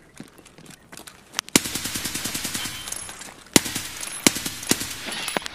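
Rapid bursts of RD-704 rifle fire in Escape from Tarkov, a few scattered shots, then a sharp full-auto string of cracks, a pause, and another quick burst with trailing single shots, loud and close with echoing tails.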